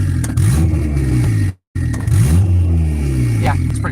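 Turbocharged Honda D15B engine in a right-hand-drive EG with a greedy-style kit and small T3 turbo, revving on a sharp throttle stab, loud and close, with a brief cut in the middle before the engine note returns.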